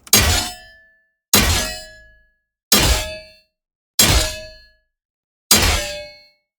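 Designed cold-weapon blade resonance built from combined layers: five separate bright metallic clangs, each ringing out and decaying before the next, evenly spaced and alone.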